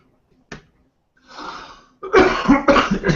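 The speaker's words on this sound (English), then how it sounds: "I get this dry cough" A single sharp dry cough, then a rougher run of harsh coughing bursts close to the mic, with a short breathy pause between them.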